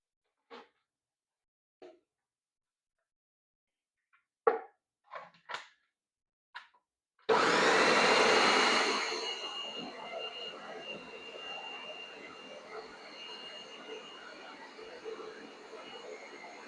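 After several scattered knocks and clunks, a blender full of partly frozen chicken livers roars to life loudly, then settles into a steady whirring grind that continues to the end.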